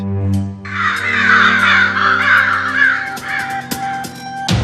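Harsh, repeated cawing from a crow close by, loud and continuous, with no talking.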